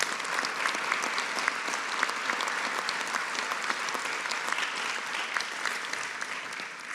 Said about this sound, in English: So maybe a big round of applause for them